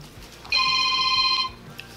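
An electronic telephone ringtone sounds once, a steady bright warble lasting about a second, loud over a quiet room during a huge bacon, egg and cheese biscuit eating challenge.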